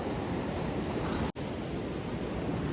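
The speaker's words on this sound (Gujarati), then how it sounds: "આમ જુઓ મોજા કેવી રીતના ઉડે છે તો ભાઈ ખરેખર બહુ ભયંકર પાણી આવેલું છે" The flooded Malan river in monsoon spate pours over a submerged check dam, making a continuous, dense, moderately loud rushing roar with no voices.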